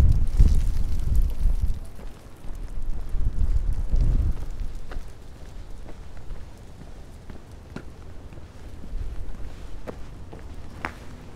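Gusty wind blowing along an outdoor city street in Quincy, Massachusetts, strong enough to knock over trash bins, heard as low rumbling buffets that swell and ease, with a few faint taps and footsteps between the gusts.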